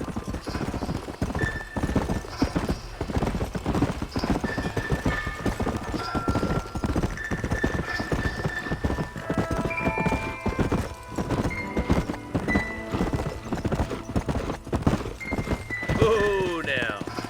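Horse hooves clip-clop steadily on the ground in the Red Dead Redemption video game, a brisk continuous rhythm heard close up under background music and game sounds, with an occasional whinny near the end.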